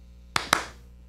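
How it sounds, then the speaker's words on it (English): Two sharp hand claps close by, a quick pair about a fifth of a second apart, each ringing briefly in a quiet room. "I want to clap so I can find it"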